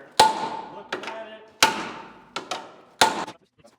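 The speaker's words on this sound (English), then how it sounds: "I'm using a brass or a copper hammer here that I'm actually hammering on, basically using this like a punch with a handle" A brass or copper hammer strikes a stuck, insulated tin cover on a 100-year-old steam locomotive, used like a punch: three sharp metallic blows with lighter taps between, close and loud.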